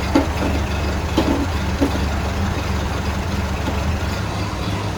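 A 1931 Ford Model A engine idling steadily and loud nearby, a low continuous rumble with faint irregular ticks, no talk.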